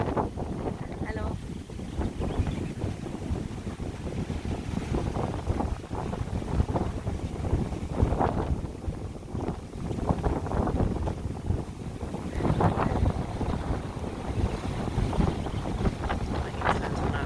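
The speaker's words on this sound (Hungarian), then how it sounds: "Erősen fúj a szél." Strong wind gusts buffet the microphone on a beach in Zanzibar on a windy day, a steady roaring rush with louder blasts around the middle and end, surf faintly beneath.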